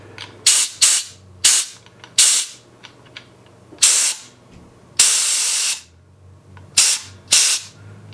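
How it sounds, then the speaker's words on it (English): Gas pressure is purged from a keg of pineapple cider in a string of loud, close, sharp hissing bursts, mostly short and one held for about a second, separated by quiet gaps. "Let's go ahead and purge out some of this pressure."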